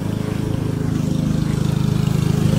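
A lawn mower engine runs steadily at a close distance, a constant droning rumble with a fast pulsing beat and no voices.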